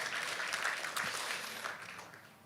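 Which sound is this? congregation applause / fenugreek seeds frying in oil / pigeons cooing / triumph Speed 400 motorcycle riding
congregation applause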